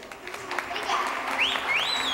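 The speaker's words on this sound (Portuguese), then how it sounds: "Aplausos" Audience applause at a regional beauty pageant in Jaboticabal, Brazil: a brief burst of clapping from a crowd, swelling after a moment and continuing steadily, with a voice and a high whistle-like tone over it.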